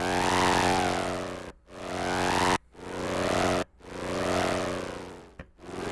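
A Korg NTS-1 and a Volca Keys synthesizer play together while the filter cutoff is swept, giving a loud, buzzy, engine-like tone. It rises and falls in four long phrases, each broken by a brief gap.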